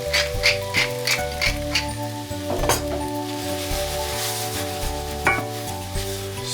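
Beans seasoned with salt and black pepper sizzle steadily in a pan while a utensil stirs them in repeated scraping, clinking strokes, set against continuous background music.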